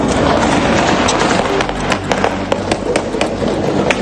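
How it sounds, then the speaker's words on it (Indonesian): Gunfire near Venezuela's presidential palace crackles in a rapid, irregular volley of sharp reports over a constant loud background rumble. "Rentetan tembakan terdengar"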